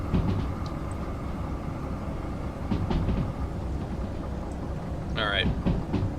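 Continuous rumbling roll of a locomotive on rails in the train simulator game Derail Valley, steady and fairly loud, with faint clicks and a brief squeal near the end.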